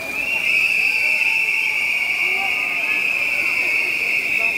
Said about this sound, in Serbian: Nećemo aplauz nego zviždanje, da čujemo koliko ste glasni.